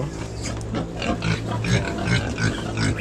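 Pigs grunt repeatedly in a loud, close, continuous run of rhythmic oinks and snorts at a riverside picnic, with no speech over them.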